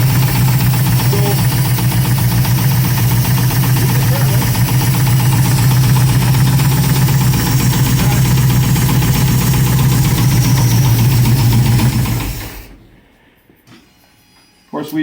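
A 1967 Pontiac Firebird engine idles steadily with a deep, loud rumble and a faint irregular knock, running for about twelve seconds before cutting off abruptly, leaving near silence.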